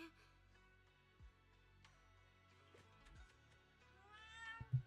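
An orange cat in the video game Zenless Zone Zero lets out a short meow near the end, fairly close and clear, after quiet ambient game sounds and faint incidental noises.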